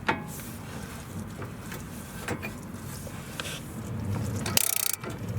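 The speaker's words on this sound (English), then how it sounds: "So with a regular ratchet, even now it still requires a lot of force." A ratchet works loose the brake caliper bolts on a Volvo XC, giving repeated metallic clicks and grinding strain close up over steady workshop noise, ending in a sharp louder burst near the end.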